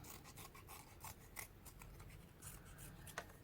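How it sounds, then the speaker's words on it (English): Quiet, repeated snipping of small scissors cutting paper, a soft crisp rasp of irregular cuts heard close up with no talking. "I'm taking nail scissors,"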